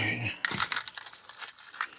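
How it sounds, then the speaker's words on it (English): Car keys jingle and clink as they are picked up, a burst of bright metallic rattles with a few sharper taps, close by and fairly loud. "let's come over here and grab the keys"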